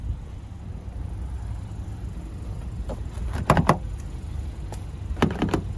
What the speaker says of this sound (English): Locked. All doors are locked.